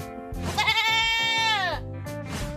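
A pet goat gives one long, loud, wavering bleat close by, rising and then trailing off, with a little low background rumble before and after.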